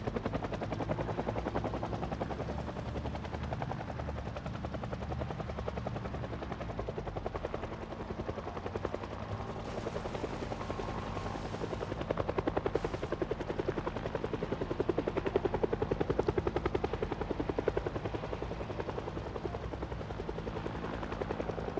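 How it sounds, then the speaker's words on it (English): Helicopter rotor chopping steadily overhead in the zombie survival game Project Zomboid, loud and continuous throughout, swelling slightly louder partway through as it tracks the player. "they got this helicopter following me"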